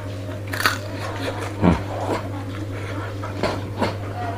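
Bites into crunchy fried banana fritters, a few sharp crisp crunches standing out above a steady low hum, close and fairly loud with no talking.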